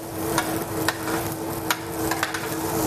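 Sea bream sizzling on a grill, a steady close crackling hiss with occasional sharp pops and light clicks as the fish is turned.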